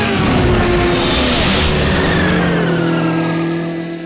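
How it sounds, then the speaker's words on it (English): Racing cars roar around a track at Silverhatch, a loud, steady engine drone with rising revs and a faint tire squeal, continuous throughout and easing slightly at the end. "Roary watched the other cars dash around the track"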